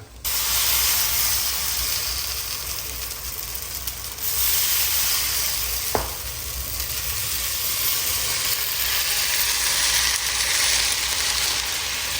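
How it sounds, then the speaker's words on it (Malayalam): Ginger, garlic and green chili frying in a hot pan, a loud, steady hiss of sizzling oil that runs throughout, broken by one brief sharp click midway. "ഇഞ്ചിയും വെളുത്തുള്ളിയും പച്ചമുളകും കൂടിയിട്ട് നന്നായിട്ടൊന്ന് ഇളക്കി കൊടുക്കുക"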